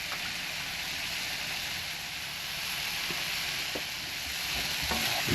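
A chicken stir fry finished with toasted sesame oil sizzles steadily in a hot pan, a loud continuous hiss with occasional soft stirring knocks.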